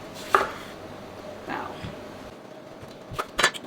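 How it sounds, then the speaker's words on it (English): A knife slices a lemon down the middle on a kitchen cutting board, giving a few soft, brief cutting sounds spaced across a quiet moment with no talk. "I'm gonna cut 1 of these lemons. Go ahead and cut this down the middle."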